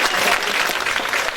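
An audience gives a steady round of dense clapping for an amateur theatre troupe at a Turkish stage show, filling the whole moment without a break.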